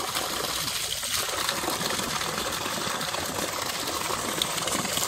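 Tap water gushes steadily from a household faucet, close and fairly loud, a continuous broadband splashing hiss with no voices.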